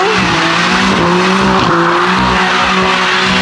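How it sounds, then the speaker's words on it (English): BMW M3 drifting around a street corner, tires squealing loudly and continuously over a roaring, revving engine, close and sustained. "Gustavo's twins about to drift this corner"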